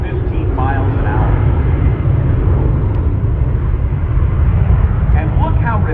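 A C-17 Globemaster III military transport jet flying at the 2019 NAS Oceana air show, a loud continuous low engine roar filling the air while an announcer talks over it.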